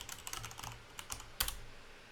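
Typing on a computer keyboard in quick, light clacks, with a louder keystroke near the end, close and very quiet, with no talking.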